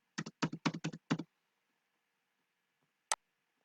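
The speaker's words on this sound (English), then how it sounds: "So let's type the password." A computer keyboard as a password is entered, five quick close keystrokes in a burst followed by silence and one final sharp key press.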